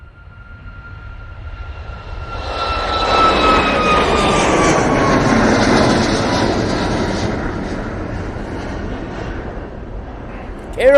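Boeing 737 MAX 8 jet taking off at Manchester Airport, a loud broadband engine roar with whining tones that builds, peaks mid-clip and slowly fades as it climbs away, with no talk over it.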